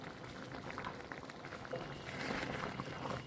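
Khichuri simmering and bubbling in a pot after ghee and garam masala go in, a steady soft gurgle and pop of thick boiling rice and lentils that swells slightly louder toward the end, with no talk.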